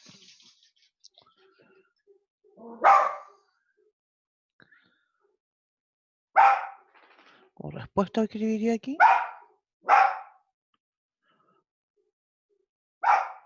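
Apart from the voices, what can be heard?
dog barking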